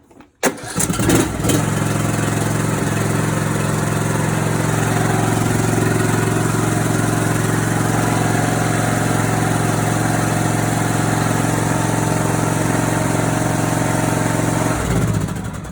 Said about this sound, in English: the Deere thing spins when the motor engages, and you know, mower runs